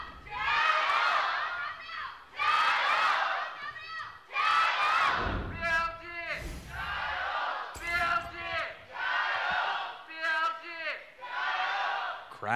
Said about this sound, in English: Crowd still warming up for BLG, getting louder every time as they get closer to finishing off this series.